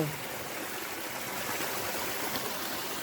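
Water streams steadily through a small hillside channel fed from Pondok Buah Batu village, a continuous even rushing hiss with no breaks, moderately loud and heard on its own.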